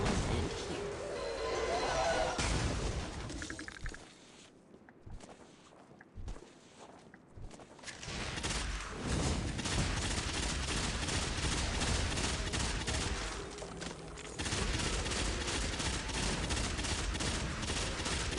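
Bad Juju pulse rifle firing in Destiny against orange-bar enemies, rapid bursts of gunfire with footsteps and explosions in a busy, loud mix, a short quieter gap midway before the firing resumes.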